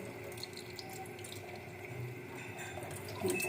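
Rice being washed in water, a continuous splashing flow like a running tap into a pot, steady and close, with a slightly louder swirl at the end.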